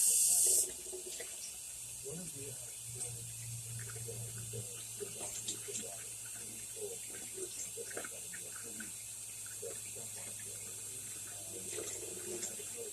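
Water runs steadily from a kitchen tap while pie crust dough is prepared for a beef stew pot pie, a continuous moderate hiss and splash with faint background sounds.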